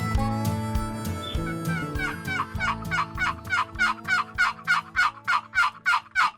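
Turkey gobbling in a rapid, rhythmic string of loud, close calls that speed up into an even pulsing burst, layered over lower-pitched earlier gobbles and clucks.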